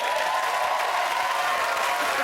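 Studio audience at a comedy panel show clapping in a short, even burst of applause, steady and moderately loud from start to finish with no voices standing out.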